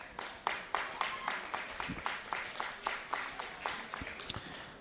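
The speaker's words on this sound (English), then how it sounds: "Good solid round of applause for Ryan as he heads off" Steady round of applause from a modest crowd at a men's Premier League football match, rhythmic clapping heard from a distance as an injured coach leaves the field.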